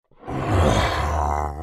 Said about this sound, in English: a lot of the Ravager sound effects seem to have an undertone of honking to it. Again, listen to those grunts and roars.